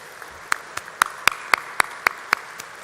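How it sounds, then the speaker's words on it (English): A few sparse, evenly spaced hand claps ring out in a room at a gala dinner for the board of directors and volunteers, about nine distinct claps over a quiet background. "they deserve a big round of applause"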